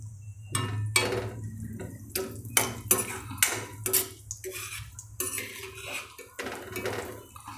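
Cashews dry-roasting in a pan for Gujarati gundar raab get stirred with a utensil, giving a steady run of sharp scraping clinks and taps against the metal, close and fairly quiet over a low hum.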